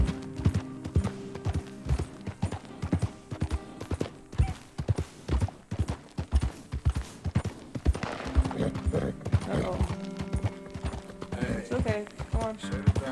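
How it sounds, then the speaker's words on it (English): Horse hooves clip-clop steadily along a path in the Red Dead Redemption 2 video game, a loud, regular rhythm of hoofbeats with game sounds layered in and a voice talking over part of it. "ride on my horse on a path"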